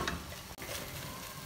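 Chicken filling with chili garlic sauce cooking in a pan, a faint continuous sizzle with a brief stir, quiet and steady with no talk.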